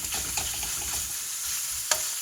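Spicy Thai pork red curry sizzles and hisses in a hot pan while being stirred, a steady bright frying crackle with a few scraping clacks of the spatula, close and without talk.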